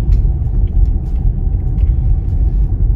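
Low, steady road rumble from inside a Nissan Ariya electric SUV on the move, a loud continuous drone of tyres and motion with no voices.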